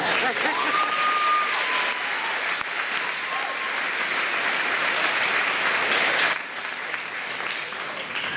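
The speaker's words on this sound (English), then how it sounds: "I think that's worth a clap." A graduation ceremony audience claps steadily, a dense wash of applause that stays loud for about six seconds before dropping to a softer, thinning patter near the end.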